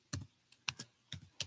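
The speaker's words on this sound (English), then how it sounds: "And I'm typing on the computer." Bursts of typing on a computer keyboard, a few quick keystroke clusters with short pauses between them, close and fairly quiet with no talking.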